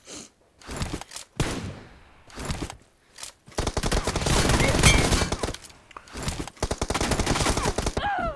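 Video game gunfire in short repeated bursts of sharp, close shots, broken by brief pauses, with a longer sustained volley in the middle and rapid fire toward the end.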